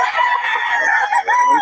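Fighting cocks crow one after another at a bustling Bocaue market, their loud, drawn-out calls overlapping close by with a brief break near the end.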